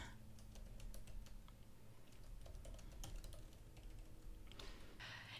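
Fingers type on a computer keyboard in a quick, irregular run of close, crisp key clicks that continues without pause, with no voices.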